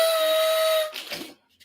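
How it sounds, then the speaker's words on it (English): A whistle blow sound effect: a sustained high, bright tone with hissy breath that holds for nearly a second, then cuts off into brief rustling noise. "That has got to be the naffest whistle blow ever"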